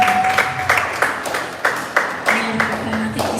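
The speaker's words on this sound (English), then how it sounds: "Please, let's clap." A small audience at a business gathering claps for an introduced guest, a sparse, uneven round of applause with distinct individual claps, fairly close, over a faint hum.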